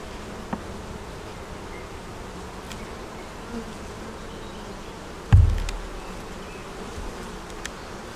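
Honey bees at an open, overflowing hive hum in a steady, soft drone that continues throughout, with a sharp thump near the end and no talking.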